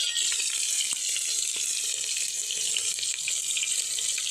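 Onions hitting hot oil in a pan for pulao: a loud, dense, continuous sizzle with a bright hissing wash that barely changes, close and alone with no talk.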